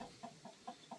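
Chicks and hens clucking on a farm, five short evenly spaced clucks in about a second, close and clear with no talk over them.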